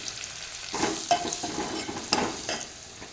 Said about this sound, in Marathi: ओल्या मिरची यामध्ये मी हे मसाले घालत आहे